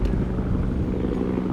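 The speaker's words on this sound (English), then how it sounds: "There's a helicopter passing overhead there." A helicopter passing overhead in a park along a former train line, a steady low rotor rumble and wind-like noise held for a second and a half, with no talking.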